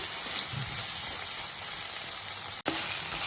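Fenugreek leaves dropped into hot oil for an aloo methi curry hiss in a dense, steady sizzle, with a brief dip and a knock near the end.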